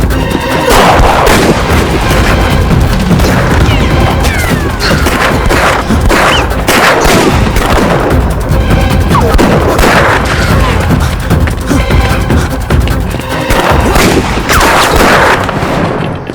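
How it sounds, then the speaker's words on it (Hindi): Intense, continuous gunfire in a dramatic action-movie gunfight, loud and dense, with rapid overlapping shots, crashes and booms layered over one another throughout. "गोली चलाओ।"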